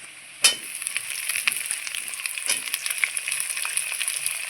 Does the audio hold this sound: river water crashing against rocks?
no